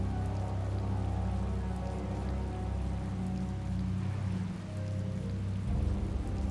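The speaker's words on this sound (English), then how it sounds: "It's raining after all." Steady rainfall in the video game Tales of Vesperia, a constant even hiss of drops over a low sustained background tone, heard alone with no voices.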